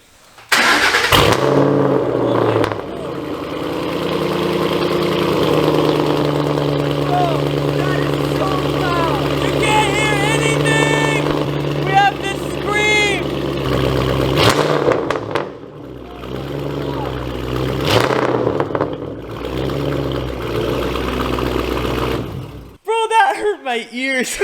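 A straight-piped Ford Mustang GT V8 barks to life and revs hard, a loud, raw exhaust roar with sharp cracks and pops that holds steady, surges in repeated blips, then drops before a final rev, with voices talking over it.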